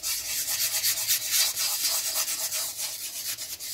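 A hand sanding wood with a steady back-and-forth rasping rub, the strokes coming fast and even, alternating lighter and firmer pressure, close and alone without voices.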